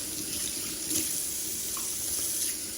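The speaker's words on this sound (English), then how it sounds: "Wash your hands" Kitchen tap running steadily into a sink while hands are washed, a continuous close splashing water stream with no voices.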